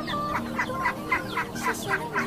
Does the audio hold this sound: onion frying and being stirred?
no